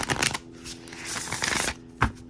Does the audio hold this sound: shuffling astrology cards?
yes